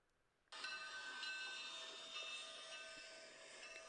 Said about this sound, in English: Little Red hopped onto the train, and they chugged quickly down the line.